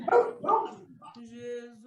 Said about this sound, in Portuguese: foi o cachorro que latiu